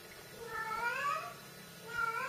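A female cat in heat meows in long, drawn-out wavering calls, two rising cries close by against a quiet background.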